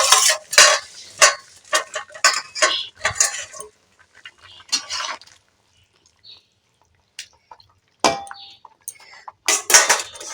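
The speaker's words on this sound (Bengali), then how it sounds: "ডালটাও সেদ্ধ হয়ে গেছে আর আমি এই পুঁই শাকটাকে দিয়ে দেবো" Malabar spinach going into a pot of cooked lentils, with rapid clattering spoon scrapes, knocks and wet stirring in close bursts, then a quiet pause before a few more clinks and scrapes.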